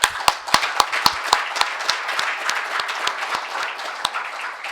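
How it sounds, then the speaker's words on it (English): An audience at a forestry event claps for the speakers, loud sharp individual claps at first that thin into a softer, steady patter of applause. "I'd like to ask for a round of applause, 3 rounds of applause."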